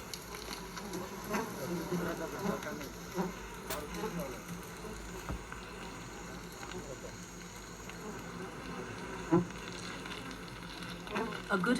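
Bees swarm and buzz around a wild hive kept by poor honey-hunting men, a steady busy hum with scattered louder passes near the microphone and faint voices mixed in.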